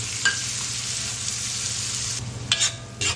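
Onion frying in butter in a pan for homemade spaghetti, a steady close sizzle with occasional stirring scrapes and clicks of a utensil toward the end.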